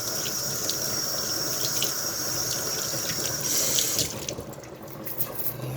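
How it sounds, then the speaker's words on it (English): Water runs steadily from a tap onto something held under the pipe, a continuous close splashing hiss that shifts and lightens near the end. "So here's water running."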